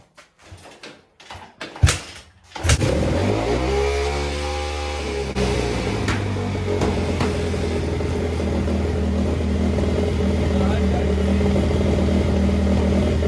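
A cold motorcycle engine idles with the choke on while it warms up, settling into a steady low rumble after a few clanks and knocks at the start, loud and close, with no voices.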